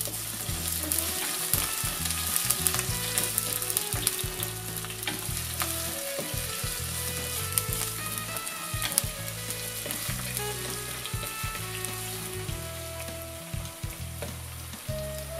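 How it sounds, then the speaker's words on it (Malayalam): Garlic and ginger frying in hot oil with mustard and fenugreek seeds for a Kerala fish curry, a loud continuous sizzle with crackling seeds and occasional stirring scrapes, no voices. "കടുകും ഉലുവയും പൊട്ടിക്കഴിയുമ്പോൾ അതിലേക്ക് വെളുത്തുള്ളി ഇട്ട് കൊടുക്കാം"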